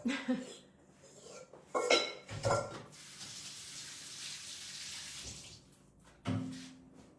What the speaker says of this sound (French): je vais me laver les mains avant